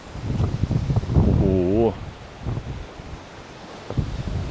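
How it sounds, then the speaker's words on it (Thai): Strong wind buffets the microphone at a mountain viewpoint on Phu Thap Boek, a steady roaring rush that runs loud through the whole stretch while someone talks over it. "โอ้ลมแรงมาก"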